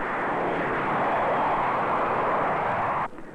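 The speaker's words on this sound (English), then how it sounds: "Soon they are high over the airport, the 4 jet engines working at full power." A four-engine jet airliner climbs after takeoff with its engines at full power, making a loud, steady, broad roar that holds evenly throughout and drops away sharply at the very end.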